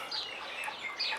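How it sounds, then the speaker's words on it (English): Backyard chickens give faint, soft clucks and chirps in a short, quiet burst, with no talk. "We have 6 chickens at the moment."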